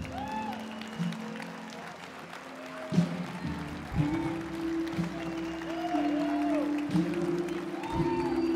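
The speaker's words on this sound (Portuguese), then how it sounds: "Glória a Deus, vamos aplaudir?" A church congregation claps at moderate volume and fairly far off, steady throughout, while music and sung or held vocal tones carry over it.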